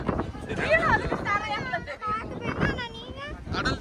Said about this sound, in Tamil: செம்ம காத்து, நடக்கவே முடியல.